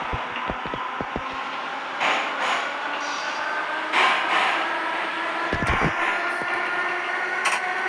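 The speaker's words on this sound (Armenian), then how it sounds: "Այս գնացքը, որ մենք քշում ենք, ավելի ճիշտ որից քշում են, սա 8 վագոնանոց է" An eight-car metro train on the Armenian metro runs along the track, heard from inside as a steady rumble with sharp rhythmic knocks and clicks from the wheels, continuous and fairly near.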